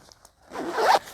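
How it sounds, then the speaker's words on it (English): A medium green packing cube being zipped closed, one quick close zipper pull with fabric rustle, preceded by a few faint handling taps. "And you just zip that up in the medium green cube"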